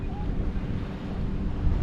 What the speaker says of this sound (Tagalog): Sobrang hangin pala dito.